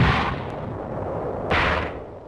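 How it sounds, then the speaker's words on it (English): Two deep booms from a WWII mortar barrage in battle footage, one at the start and one a second and a half later, each with a rolling decay over a dull, noisy background. "Mortars lay down a protective barrage for the tanks."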